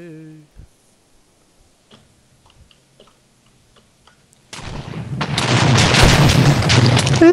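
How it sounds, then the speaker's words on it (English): Minecraft explosions burst in after a quiet stretch of faint ticks and clicks, swelling into a loud, sustained roaring blast with crackling debris that fills the rest of the clip. "Explosions."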